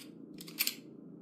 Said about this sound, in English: Oh, that reload sound.